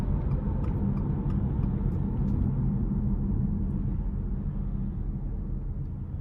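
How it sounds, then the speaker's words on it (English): A 2023 Subaru Ascent Limited with its 2.4-liter turbo four and 20-inch wheels cruises down the interstate, giving a steady low road and engine rumble with broadband tire noise, heard alone from inside the cabin. "really nice driving feel coming down the interstate, even with these bigger 20-inch wheels on here"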